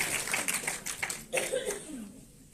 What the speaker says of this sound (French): applaudissez-le maintenant